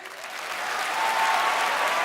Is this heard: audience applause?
yes